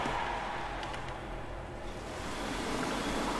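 Broad, steady rush of water in Forza Horizon 5, likely a car splashing through water during a summer season championship road race, a continuous surf-like wash holding fairly even throughout with no talk.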